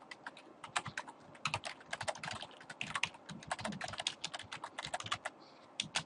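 Rapid typing on a computer keyboard while entering Debian Linux command-line text, dense clicking keystrokes in quick irregular bursts, close and steady, with no voice.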